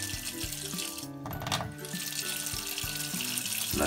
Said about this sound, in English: You open the water and you open hot water